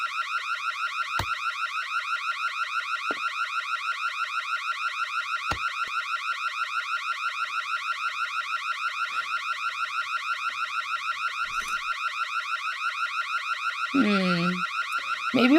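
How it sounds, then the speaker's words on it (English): An electronic security alarm triggered by a clothing security tag in a video game blares continuously, a loud rapid pulsing tone held steady for the whole stretch, with a brief voice near the end. "Oops. I forgot about removing the security clip from the clothes."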